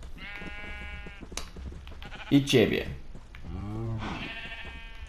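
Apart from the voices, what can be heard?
sheep bleating in the video game Minecraft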